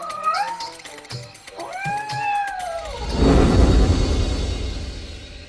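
A cat gives a few drawn-out meows up close, then a rushing, splashing noise takes over.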